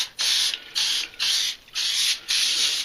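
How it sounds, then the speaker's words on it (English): Butter-flavored cooking spray is sprayed onto aluminum foil at a winter grill, making four short, close hissing bursts with brief gaps between them. "we'll want to kind of spray her down with the cooking spray."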